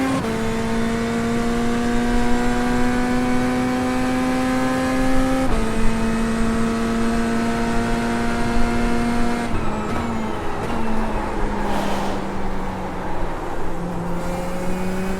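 A Chevrolet Corvette Z06 GT3.R race car engine on track, loud and close, with a rising whine through the gears, sharp pitch drops at each upshift and a wavering note as the car slides near the end.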